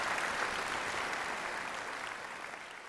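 An audience applauds together, a dense, even wash of clapping that holds steady and fades slightly over a few seconds.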